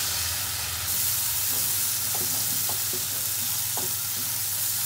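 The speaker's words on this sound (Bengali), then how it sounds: "এখন ভালো করে মশলাটা কষাবো" Spice paste with garlic paste frying hard in oil, giving a loud continuous sizzle with repeated scraping strokes of a spatula as it is stirred.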